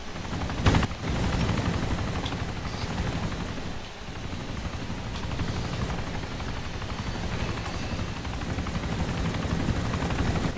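A helicopter in the video game Arma: Operation Arrowhead, its rotor and engine roar droning steadily and loudly for the whole stretch, with a brief clatter near the start and no talking.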